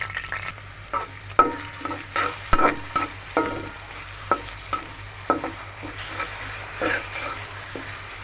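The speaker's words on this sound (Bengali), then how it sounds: "তেজপাতা, দারচিনি আর এলাচ দিয়ে দিয়েছি। এখন পেঁয়াজ দিয়ে দিব।" Onions fry in oil with bay leaf, cinnamon and cardamom, a low sizzle under repeated sharp clinks and scrapes of a spoon stirring the pan, close and steady.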